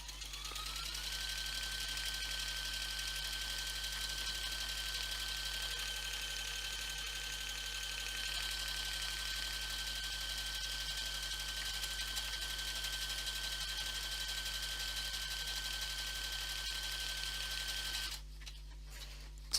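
A Brother INNOV-IS A16 computerized sewing machine stitches a buttonhole, running with a steady, continuous motor whir and rapid needle hum at close range, with no talk, until it stops near the end.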